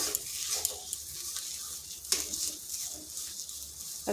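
A spoon works a vegetable mixture with tomato sauce around a pan, giving soft scraping strokes and a faint sizzle, with two sharper clinks against the metal.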